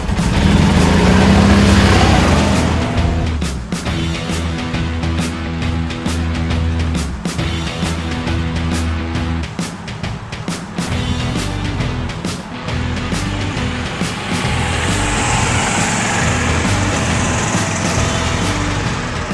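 A Club Car Precedent EFI and an E-Z Go TXT golf car race uphill, their gas engines droning loudly and steadily for the whole stretch, with a heavy revving surge at the start and clicks and rattles running through it.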